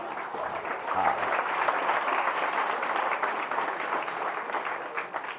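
Audience applause at a Marathi devotional lecture, a dense, steady clapping that fills the whole stretch without easing, loud and close with no voices over it.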